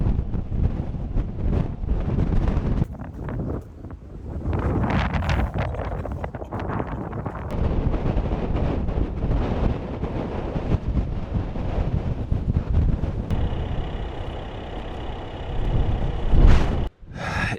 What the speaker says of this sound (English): There's a big storm approaching and it's here earlier than I thought it was going to be